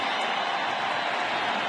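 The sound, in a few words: baseball stadium crowd cheering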